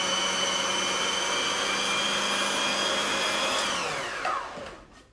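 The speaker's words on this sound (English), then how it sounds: "just keep blitzing it together until it comes together and you can start rolling it into a ball" A food processor runs steadily, whirring loudly as it blitzes nuts into a carrot cake bliss ball mixture, then winds down and stops near the end.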